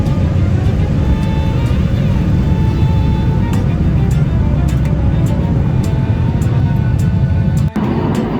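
Steady, loud broadband drone of an airliner engine in flight on a Southwest plane, a dense low rumble with faint tonal whine that holds unbroken throughout, with a brief dip near the end.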